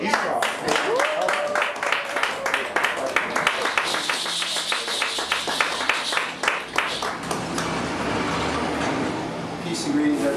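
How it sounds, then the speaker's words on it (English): An audience at a metaphysics class claps steadily in rhythmic unison, a loud sustained round of hand claps welcoming brother Esau, with voices calling out over it before it thins into general crowd noise. "keep your hands clapping because here is brother Esau."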